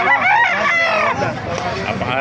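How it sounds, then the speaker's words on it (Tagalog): Chickens and roosters at a Baliuag tyangge market are close and loud. A rooster crows over a dense chorus of clucking and squawking fowl. "Napakaraming manok dito"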